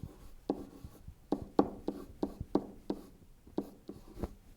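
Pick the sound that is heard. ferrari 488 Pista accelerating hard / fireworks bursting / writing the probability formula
writing the probability formula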